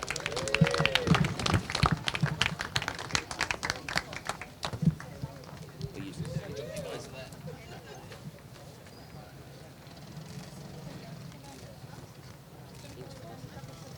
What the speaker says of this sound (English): Round of applause, please, for PMR 68